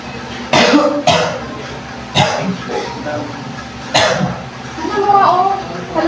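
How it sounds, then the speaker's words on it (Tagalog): A person coughs in a series of harsh, loud bursts close by, several separate coughs spread across a few seconds with brief pauses and a rough throat-clearing quality. "Palala na ata ng palalayang ubo mo."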